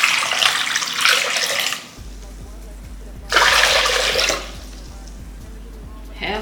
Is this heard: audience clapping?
no